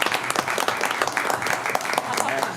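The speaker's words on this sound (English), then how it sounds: "we want to give her a big round of applause" Applause at a town council meeting for a council member who graduated from Wake Forest University, with a small group clapping steadily and close by, along with some voices.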